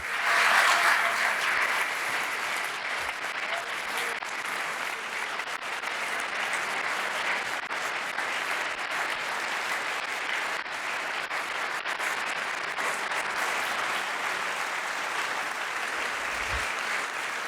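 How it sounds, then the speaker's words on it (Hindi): A church congregation gives loud, sustained applause during a sermon, with a dense, even roar of clapping and no speech over it. "जोरदार तालियां इस खुदावंद बादशाह के लिए कुदरत रखता है।"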